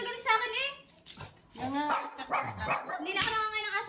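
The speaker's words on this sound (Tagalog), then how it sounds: "Tatahol na naman yan." Dalmatian dogs bark and yip in quick repeated bursts close by, mixed with talking voices including a child's.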